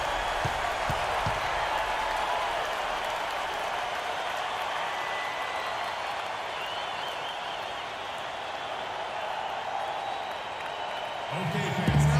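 Simulated basketball arena crowd in NBA 2K16, a steady broad roar of cheering and applause that holds loud throughout and swells slightly near the end.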